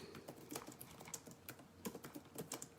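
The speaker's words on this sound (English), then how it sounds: "Let me type that." Keys clatter steadily on a computer keyboard, a quiet, close run of light irregular taps spread across a few seconds.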